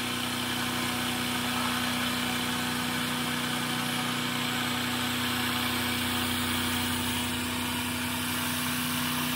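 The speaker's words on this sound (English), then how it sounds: "I short-circuited it completely now, and somehow it's spinning at 1830 RPM." Adams pulsed magnetic motor generator spinning steadily at 1830 RPM with its output short-circuited, a constant close humming whine with a steady tone throughout.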